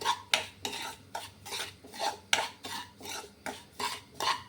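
Moong dal flour being roasted with ghee in a pan, a spatula scraping and stirring the metal in a steady, rhythmic back-and-forth, about two strokes a second, close up with a faint sizzle and no talking.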